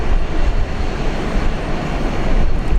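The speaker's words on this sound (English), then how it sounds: "here we go to Singapore, the A330." An Airbus A330 departs Brisbane bound for Singapore, its engines a loud, steady broadband roar that fills the whole stretch without any talk over it.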